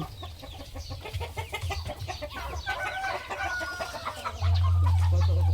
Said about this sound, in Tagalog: Asa daw ito ang Kati Janelle nga manok yo?